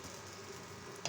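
Quiet, steady sizzle of hot ghee in a pan for chicken jalfrezi as capsicum goes in, with a brief sharp tap near the end and no voices.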